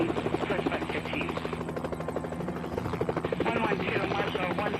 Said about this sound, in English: Man, this thing needs a lot of juice to take off. Which I guess makes sense, it's a big fat helicopter.